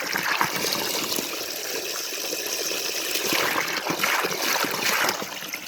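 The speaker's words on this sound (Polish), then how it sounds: "No i 15 minut woda będzie leciała." Water runs and trickles steadily, a continuous splashing hiss close by with no voices.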